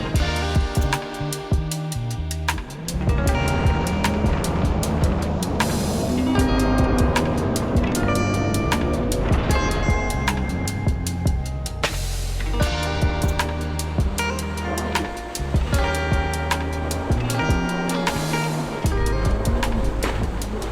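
A Yamaha GP1800R SVHO jet ski with a 1.8-litre supercharged engine runs at speed on Lake Muskoka in Ontario, rising and falling engine whine over rushing water, loud and close with music playing over it.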